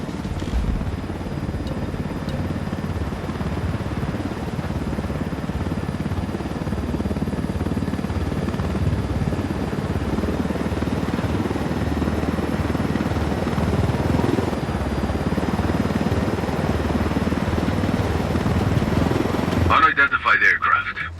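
A helicopter in the video game Ghost Recon Wildlands flies with a loud, steady rotor roar throughout, voices talking over it, before an abrupt burst of other noise at the very end.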